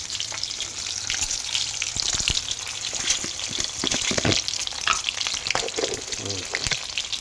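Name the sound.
eggs frying in a pan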